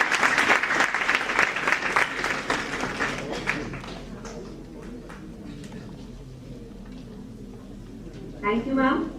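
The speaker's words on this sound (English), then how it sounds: "A big round of applause." Conference audience at a pharmaceutical event breaks into applause, a dense round of clapping that is loud at first and fades out over several seconds. Speech follows near the end as the clapping dies away.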